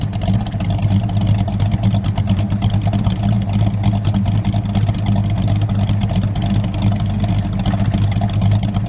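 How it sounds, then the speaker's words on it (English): A 1973 AMC Javelin's 401 cubic inch engine idles with a continuous low rumble and rhythmic throb, holding even throughout with no revving. "Let me just listen to it idle."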